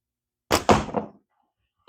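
A slingshot fired with Tritium Rose and Purple bands: a sudden close snap followed by two or three quick thumping slaps that die away within a second, surrounded by silence.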